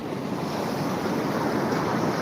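Sea surf rolling in at Pudimadaka beach, a steady, loud broadband wash of breaking waves with wind buffeting the microphone throughout, no voices.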